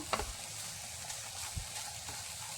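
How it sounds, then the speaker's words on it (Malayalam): Egg and jackfruit flower stir-fry being stirred in a pan for a Kerala-style thoran, with quiet scraping strokes over a soft, steady sizzle and a couple of sharper utensil knocks. "ഇത് നമുക്ക് കുറച്ച് സമയം ഇതേപോലെ ഒന്ന് ഇളക്കി കൊടുക്കാം."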